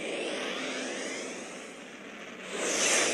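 Steady roaring engine whoosh from a spaceship's warp engine starting in the video game Second Galaxy, continuous and swelling louder near the end.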